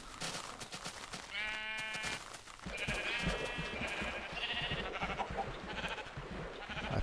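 Sheep in Minecraft bleat repeatedly with nasal, wavering calls, several overlapping bursts over a steady background of game ambience.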